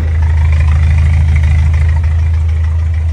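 Toyota 22R truck engine idling after a fuel cutoff solenoid bypass and exhaust work, a loud, close, steady low rumble with an even, unbroken idle.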